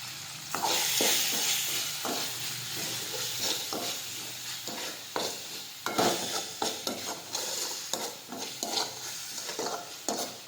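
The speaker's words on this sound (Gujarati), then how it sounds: "હવે બધા મસાલા છે તે આપણે મિક્સ કરી દઈશું" Spices are stirred into fenugreek greens (methi bhaji) in a pan, with steady sizzling and frying under repeated spoon scrapes and clinks, close up and with no talk.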